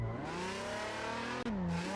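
A drift car's engine in the Assetto Corsa racing game, revving high and steady with a rising whine, a quick lift and a swooping pitch change, fairly faint.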